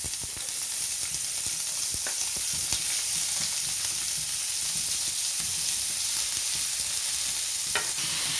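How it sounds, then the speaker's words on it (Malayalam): Onions frying in a pan for chicken curry: a continuous close sizzle and hiss, with occasional stirring clicks and scrapes and no talk. "ഇനി നമ്മുടെ ബാക്കി വെച്ച സവാള ചേർക്കുന്നുണ്ട്"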